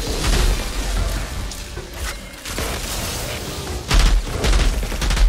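Gunfire in the video game Outriders, dense bursts of shots and booms running nearly continuously at close range, with a brief lull mid-way before heavier firing resumes, no talk.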